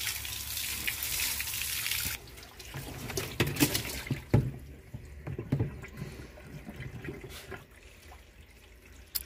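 Water running from a tap into a container, a loud gushing stream that cuts off, followed by quieter splashes, drips and handling clatter.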